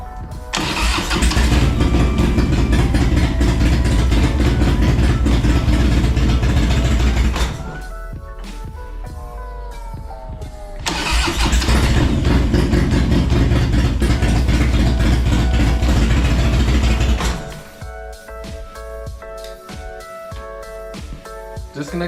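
A Harley-Davidson motorcycle with an electrical fault fires up twice, each time running loudly at a rough idle for several seconds before stalling into quieter mechanical ticking, close by with no throttle applied.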